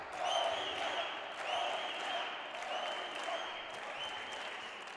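Crowd applauding at the 2019 Bolivia Open pro singles racquetball final, sustained clapping from a large indoor audience with a faint squeaky echo under a commentator talking.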